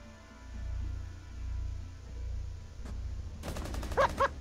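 Gunfire shot through a wall in Rainbow Six Siege, a quiet low hum giving way to a sudden burst of rapid, sharp shots near the end, loud against the faint background.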